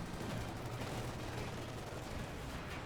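Rapid automatic gunfire from a Thompson submachine gun in the World War II strategy game Company of Heroes 2, a dense, continuous rattle of shots mixed with other battle noise, steady and loud throughout.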